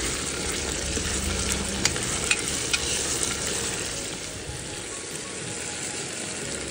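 Spices tempering in hot oil in a pan at a roadside open kitchen by a hotel in Udhampur, giving a steady, close sizzle and fry with a few sharp crackles and pops throughout.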